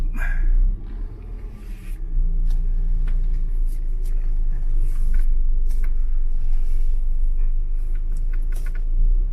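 Steady low rumble of a car driving on a highway in Quezon on the way from Manila to Bicol, heard from inside the cabin with road noise and scattered light clicks and knocks.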